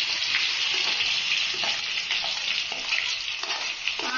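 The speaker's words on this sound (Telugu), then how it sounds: "ఆనియన్ ఒక రెండు నిమిషాలు ఆయిల్లో బాగా ఉడకాలండి" Onions frying in hot oil, with mustard seeds and cumin, for a carrot egg curry: a loud, continuous close sizzle and hiss with faint stirring scrapes and no talking.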